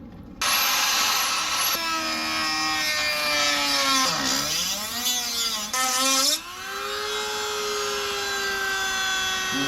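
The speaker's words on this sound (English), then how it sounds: "start going along this part with the Dremel" A Dremel rotary tool cuts into the plastic housing of a Nissan 350Z headlight, its high whine dipping and rising as the bit bites under load, loud and close with no voices.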